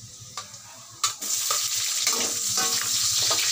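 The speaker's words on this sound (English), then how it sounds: "Igisa muna natin" Garlic, onion and squid sauté in a hot pan for adobong pusit, a loud continuous sizzle broken by several sharp scrapes and clinks of stirring.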